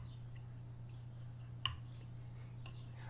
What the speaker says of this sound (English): it's cicadas season, and it's like a din.